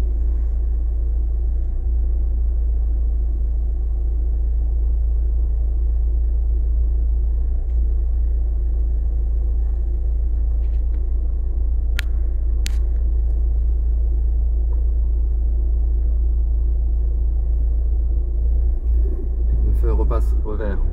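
A car sits idling at a red light in Paris traffic, its low engine rumble steady and close throughout, with brief faint clicks and a slight stir of movement just before the end.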